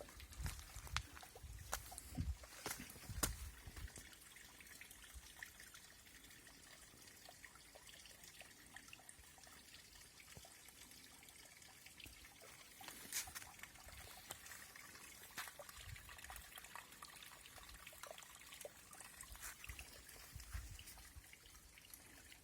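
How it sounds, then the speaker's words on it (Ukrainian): Small Chotyry Kopyttsia waterfall in Skhidnytsia, water trickling and dribbling over many little stones, a steady soft splashing flow heard close up with no talk, a few louder gurgles near the start. "Звичайно, це не Ніагарський водоспад, але, але водоспад."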